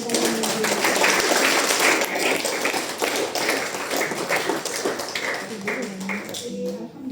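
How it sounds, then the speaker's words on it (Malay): Sustained applause from a seminar audience for speaker Diamond Nazri, dense and loud clapping filling the whole stretch without pause, tapering slightly at the very end. "Berikan tepukan kepada Diamond Nazri."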